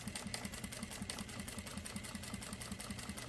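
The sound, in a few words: Jack A4 sewing machine sewing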